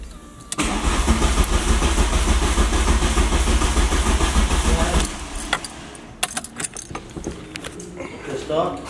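A Mk1 2-litre 8-valve engine cranking over on the starter with the coil unplugged to prime the oil pump, a steady loud churn for about five seconds that then stops, followed by clicks and a voice nearby.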